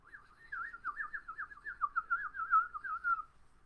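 A human whistle imitates a swallow, a warbling run of rapid rising-and-falling chirps, clear and alone, lasting a few seconds.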